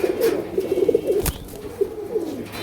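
Paired pigeons coo in a loud, close series of throaty rolling notes, with one sharp knock partway through and a few more coos trailing off after it.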